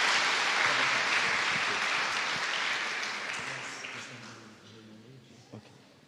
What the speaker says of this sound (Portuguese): diga amém e aplauda ao Senhor